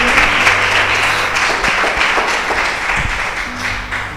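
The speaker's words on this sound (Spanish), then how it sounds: "Dele un fuerte aplauso al Señor" A church congregation applauds, a loud, dense burst of clapping from many hands that carries on steadily, with a voice faintly heard underneath.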